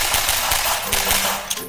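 Rapid gunfire crackles in the video game Garry's Mod, a dense, continuous burst of shots that fills the whole moment at close range.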